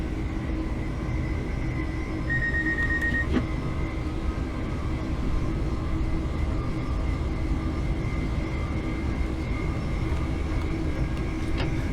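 Class 387 electric train coasting at about 80 mph with the power off, in Train Simulator: a steady, loud rumble of wheels and running gear holds throughout, with a brief high tone near the start.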